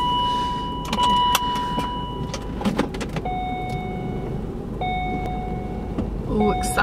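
A car rolls through a McDonald's drive-through, its engine and road noise steady beneath repeated electronic chime tones and scattered clicks and knocks, with muffled voices in the background.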